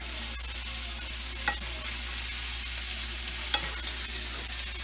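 Pastured steaks frying in a pan while being basted and flipped, a loud, constant sizzle close up with a couple of faint clicks from utensils and no talking.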